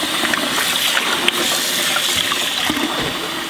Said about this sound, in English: Give this a good rinse.